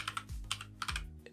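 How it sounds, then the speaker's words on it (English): Typing on a computer keyboard while entering an APN setting for a 4G/5G MiFi router, a quick run of close, crisp key clicks with short pauses between bursts and no talk. "I'm going to type internet"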